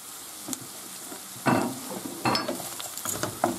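Rice grains are stirred in a hot pan while frying, with a soft background sizzle broken by a few close scraping strokes of a utensil.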